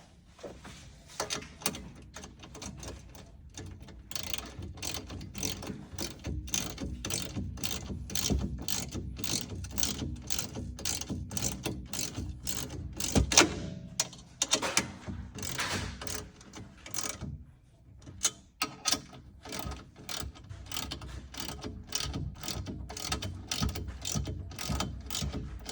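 A ratchet wrench tightens nuts onto bolts while a drawer system is installed in an Ineos Grenadier, giving long runs of quick, even clicks at close range with brief pauses between strokes and no talking.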